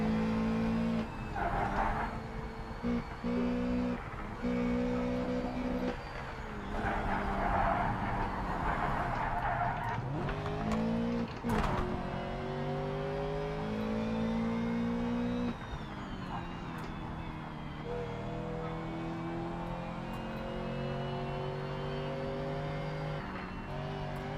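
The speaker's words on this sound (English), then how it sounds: "at least I can hear the engine a little better" A race car engine in the video game Project Cars 3 drones steadily, its pitch rising and falling through gear changes and revs, loud and continuous with no other cars nearby.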